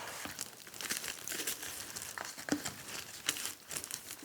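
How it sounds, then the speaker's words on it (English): Tissue paper crinkles and rustles softly in irregular bursts as it is laid in layers onto a joint compound glue mixture, close and quiet with no talking. "I'm going to put the tissue paper on, put another layer on here"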